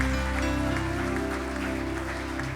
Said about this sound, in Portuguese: Vamos aplaudir Jesus novamente, que Ele merece